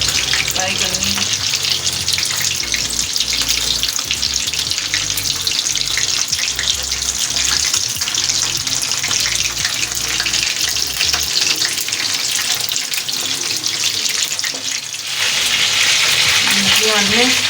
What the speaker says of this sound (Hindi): बिल्कुल हल्की आंच पे फ्राई करनी है।